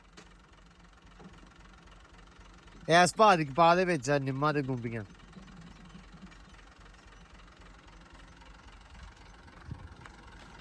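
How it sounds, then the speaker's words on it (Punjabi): A tractor engine idles steadily at low level throughout, a faint rumble running under a man's brief burst of speech in the middle. "ਭਾ ਆ ਗਿਆ ਟਰੈਕਟਰ ਲੈ ਕੇ ਕਰਾਹ ਪਾਉਣ"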